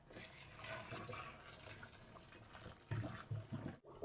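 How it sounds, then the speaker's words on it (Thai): Boiling water poured over gutted catfish to scald off the slime, a steady close splashing gush that surges louder in the last second before a brief cut. "ต้มน้ำร้อนให้เดือดจัดเลยครับมาเทราดลงบนปลาดุกนะครับ"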